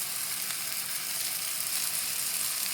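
Meat browns in a pan with a constant, dense sizzle, a bright even crackle that holds steady throughout without any voices.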